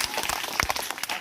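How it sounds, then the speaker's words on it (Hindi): Audience of children and adults clapping together at a school science and magic demonstration, a steady, dense burst of applause lasting about a second with no voices over it. "ताली बजा दो सब लोग।"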